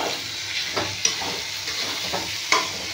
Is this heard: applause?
no